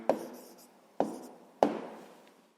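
Pen strokes writing an answer on paper during a sixth-grade math exercise, three separate scratchy strokes, close and fairly quiet, each one fading out.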